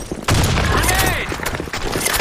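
Sudden loud burst from a grenade explosion in a first-person shooter game, followed by a rumbling boom, with a voice shouting over it.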